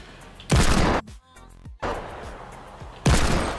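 Gunshots in Fortnite: three heavy, booming blasts spaced about a second apart, loud and close, each with a short decaying tail.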